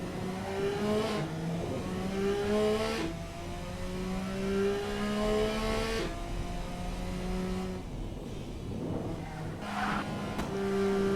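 A supercar with an inline engine of about 200 horsepower accelerates down a straightaway, its engine note climbing through repeated gear changes, steady and moderately loud, with a few brief dips between shifts.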